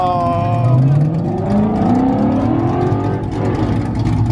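A sixth-generation Ford Mustang in a street race revs and accelerates hard, engine pitch sweeping upward through gears, loud and close, with people talking over it.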